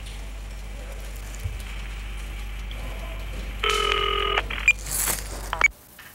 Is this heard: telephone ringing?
yes